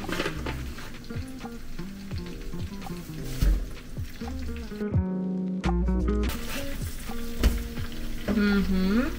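Food sizzles and crackles in a pan, with occasional utensil clatter and music playing over it.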